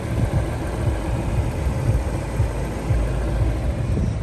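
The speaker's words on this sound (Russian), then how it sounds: "сейчас заведен автомобиль, ровненько работает мотор" A 2013 Ford Focus with a 1.6-litre engine idles evenly, giving a continuous low, steady rumble at close range with no voices.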